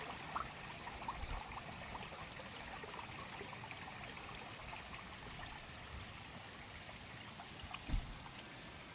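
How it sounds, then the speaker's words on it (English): Water pumped from a French drain system pours out steadily toward a road in a continuous, faint, gushing trickle, with one soft knock near the end. "And that's how you want it to pump the water out to the road."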